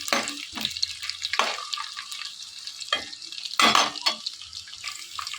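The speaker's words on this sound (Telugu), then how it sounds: "ఎండు చేపలన్నీ కూడా ఇందులో వేసుకుని ఫ్రై చేసుకోవాలి ఆయిల్లో." Dried fish fry in hot oil in a pan for a cucumber dried-fish curry, with intermittent sizzling and bursts of stirring and scraping separated by quieter gaps, close and moderately loud.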